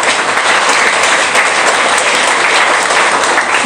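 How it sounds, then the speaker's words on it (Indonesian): A dense, loud burst of audience applause at a school program event, many hands clapping continuously and evenly throughout with no pauses. "Tepuk tangan untuk kita semua."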